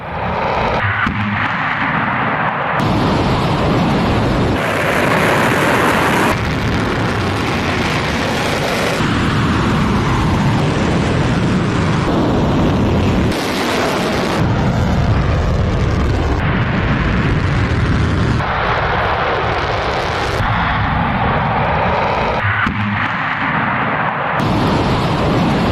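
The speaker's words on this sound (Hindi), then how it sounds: "ईरान ने सबसे ताकतवर मिसाइलों से हमला किया इजराइल पर।" News footage of an Iranian missile strike on Israel, with loud, sustained roaring and booming blasts that are cut into repeated segments and broken by abrupt edits.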